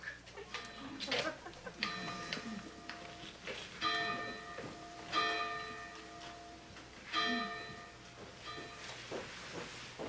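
A church bell tolls repeatedly during a live stage play about Lexington Green, several ringing strikes spaced a second or two apart with long decaying tones, moderately distant, mixed with faint voices and stage noise.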